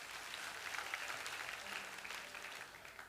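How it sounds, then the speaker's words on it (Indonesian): Congregation applauding in church during an Indonesian sermon, a soft, even wash of many hands clapping that holds steady throughout, fairly distant and quiet. "kasih tepuk tangan untuk Tuhan"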